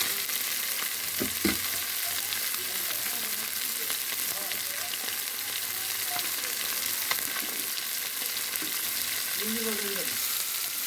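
Pieces of fish frying in oil in a pan, a constant close sizzle and crackle running throughout, with faint background murmurs and occasional utensil sounds.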